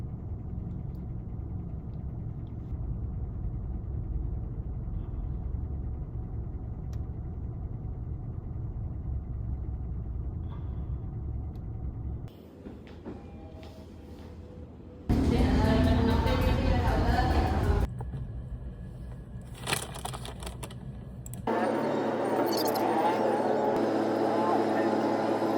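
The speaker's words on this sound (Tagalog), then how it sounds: "Traffic, grabe." Road traffic with passing cars makes a low, continuous rumble that cuts abruptly between louder and quieter stretches, with engine noise swelling and fading and people talking over parts of it.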